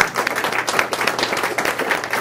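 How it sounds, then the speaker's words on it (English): Audience at a Hispanic Heritage diversity talk gives a round of applause, dense, even clapping from many hands filling the room, loud and unbroken by speech. "I think your grandma deserves a round of applause"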